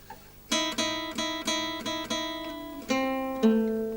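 A guitar plucks a repeated pair of notes against an open string in a blues feel, evenly spaced, then ends on two longer ringing notes; no voices.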